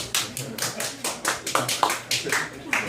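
Scattered clapping from a small audience at a radio station literary reading, a handful of distinct claps spaced unevenly across the moment, close and fairly loud, with a voice heard among them.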